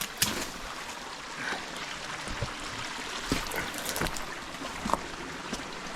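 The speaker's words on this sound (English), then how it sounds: "here we arrived to some kind of waterfall" Water rushing and splashing over rocks at a waterfall in a canyon, a continuous broadband wash with occasional louder splashes, fairly close and with no voices.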